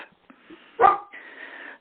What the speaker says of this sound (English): whoever has a barking dog, please hit *6, or I'm going to go ahead and mute everybody